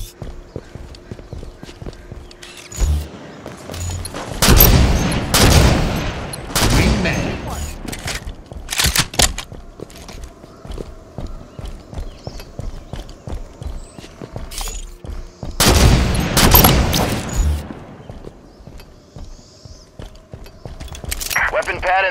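Gunfire in the video game Halo 5 arrives in dense bursts of rapid shots alongside explosive blasts and impacts, with quieter combat noise in between and game voices calling out over the action.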